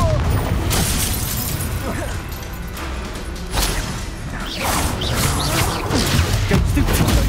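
Confringo explosion spells in Hogwarts Legacy, a steady run of booming blasts and crashing impacts with crackling debris, loud and dense throughout, with game voices shouting over the combat.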